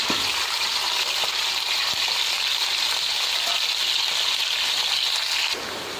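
Four raw onions frying in one and a half cups of hot oil in a kadhai on a stove, a steady, loud, dense sizzle that holds evenly and then drops slightly near the end.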